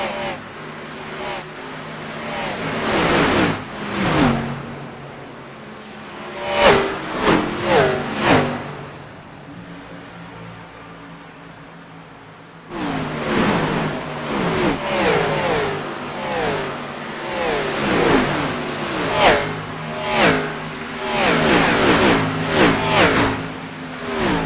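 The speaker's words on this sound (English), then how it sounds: "Let's go down trackside, listen into the sounds of the Speedway" Race cars in iRacing at Atlanta Motor Speedway roar past in repeated loud revving surges, engines rising and falling in pitch as they sweep by, with a brief quieter lull midway before the pack returns.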